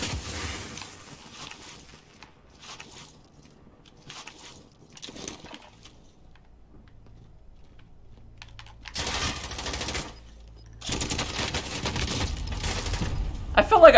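Bursts of gunfire from the Call of Duty video game crackle in clustered volleys, moderately loud, with quieter stretches of game noise and voices in between before a dense barrage at the end.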